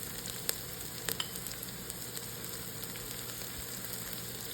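Ginger and onion frying in a pan for Filipino rice ginger soup, giving a steady, faint crackling sizzle with a few sharper pops, no voices.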